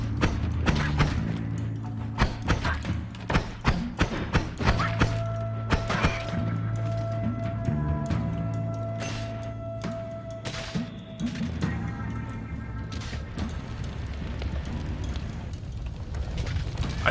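An explosion in the video game Noita bursts with heavy crashing booms and rumbling debris over steady game music and sound effects, with no talk.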